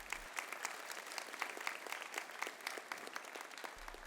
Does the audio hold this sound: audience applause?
yes